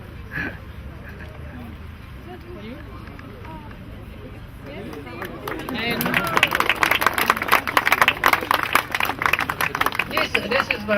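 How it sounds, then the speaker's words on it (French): Crowd clapping for runners at a Montsouris park running event, a dense burst of applause swelling in after a stretch of background chatter, with a voice speaking over the start. "Alors, on peut les applaudir très fort."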